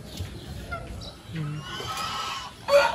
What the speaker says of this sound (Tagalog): Yan ang mga gansa.